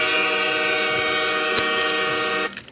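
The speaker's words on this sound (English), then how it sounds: "Here comes the train home." Train horn blasting over a passing train, played as a sound effect, loud and sustained for about two and a half seconds before cutting off abruptly.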